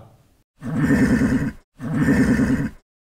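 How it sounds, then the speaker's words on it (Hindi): A white horse neighing in two loud, close whinnies, each about a second long, separated by a short pause, with nothing else heard around them. "हाँ यह एक घोड़ा है"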